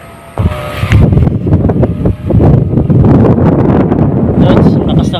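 Strong typhoon wind buffets the microphone in a loud, continuous roar with gusty rumbling and flutter, while a voice speaks briefly beneath it.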